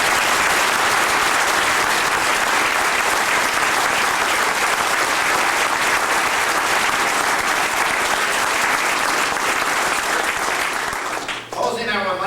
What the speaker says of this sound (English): Sharon Potlin, and Joe Kastelic, by giving them one more great round of applause.